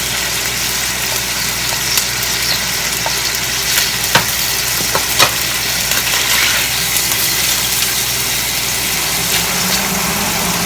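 Garlic sizzles steadily in a hot frying pan, a dense continuous crackle with occasional clinks of a utensil against the pan.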